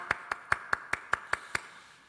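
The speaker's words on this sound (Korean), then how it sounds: "우리의 찬양을 받아주신 하나님께 영광의 박수 올려드릴까요?" Eight crisp, evenly spaced hand claps, fairly faint and unaccompanied, at a Korean church worship service for infants and toddlers.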